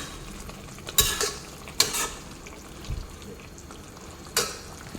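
Crushed garlic tempering sizzles in a pan, with a soft frying hiss under several sharp clinks and scrapes of a spoon stirring against the pot.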